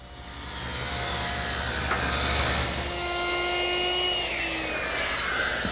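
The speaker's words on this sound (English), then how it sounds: "raise the blade, and finish making the rabbet." A table saw rips a rabbet in a wood board with its blade raised, producing a loud, steady whining cut with rasping wood noise that shifts pitch midway as the cut continues.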